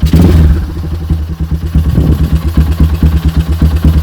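A modified 2007 Yamaha Scorpio Z 225 motorcycle engine idles with a steady, loud, lumpy throb, pulsing rhythmically close by with a brief rev near the start.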